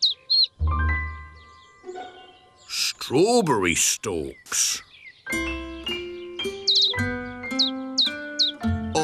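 Cartoon birds chirp and tweet in a Postman Pat animated episode, a run of bright, clipped, tonal whistles in bursts between short spoken lines and rising cartoon sound effects.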